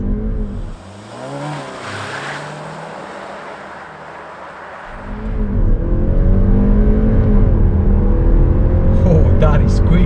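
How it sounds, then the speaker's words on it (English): A 2019 Skoda Superb Estate launched with launch control roars and climbs through the revs in a hard acceleration, quieter at first, then surging loud and sustained, with brief talk early on. "To launch the car, we have to hold on the brake"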